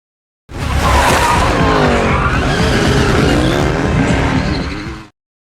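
Cars in a high-speed chase screech and skid, with loud continuous tire squeal and engine roar for about five seconds, close and unbroken.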